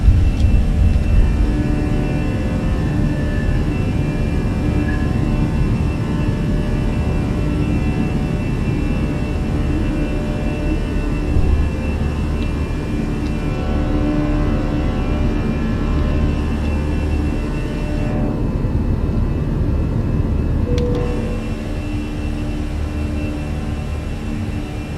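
A British Airways airliner takes off from Glasgow for Belfast City and climbs, heard as a steady, loud engine roar and rumble that holds for the whole stretch.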